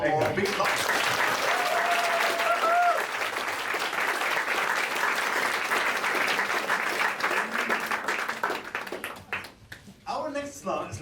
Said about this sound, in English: One more big clap.